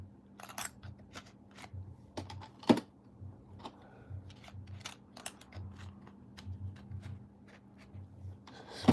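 Rapid, irregular clicks of fingers typing on a computer keyboard, close and fairly quiet, with scattered louder keystrokes over a low steady hum and no talking.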